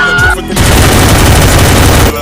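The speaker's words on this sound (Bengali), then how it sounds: "আরে এনিমিরা তো ফায়ার করছে" Enemy gunfire in the Free Fire video game: a dense, loud barrage of rapid shots and booms that breaks in after a brief quieter moment and keeps rolling nearly without pause to the end.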